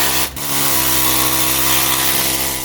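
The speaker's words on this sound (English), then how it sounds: "I'm using a needler here that attaches to an air hammer" Needler attachment on an air hammer scouring debris off sheet metal at the back of a 1977 C3 Corvette, a loud, continuous close buzzing rattle with a brief dip near the start, no talking.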